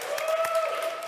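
A person demonstrating how to clap, a quick run of sharp, evenly spaced handclaps, close and fairly loud over a steady background tone.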